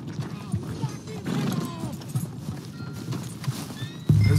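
Horse hooves clip-clop at a steady walk in Red Dead Redemption II, with a horse whinnying partway through and a sharp thud near the end, heard at moderate level over light background ambience.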